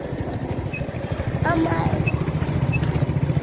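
A new motorcycle rumbles along a road with a steady, close engine drone, while people talk over the ride.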